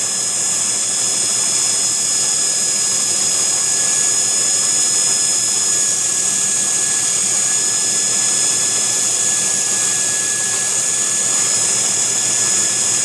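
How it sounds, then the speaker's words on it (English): A grinder thins down the cutting edge of a custom handmade knife, a steady, loud, continuous whine with a bright high-pitched hiss that holds level throughout, with no talking. "So we're doing a grind to thin down the cutting edge."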